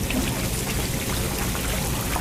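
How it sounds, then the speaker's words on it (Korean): Makgeolli rice wine, tart mountain-fortress style, fermenting with nuruk, its bubbles rising and popping in a dense, steady patter like a heavy downpour, close and continuous with no voices. "막걸리가 발효되면서 기포가 올라오고 빗소리가 난다."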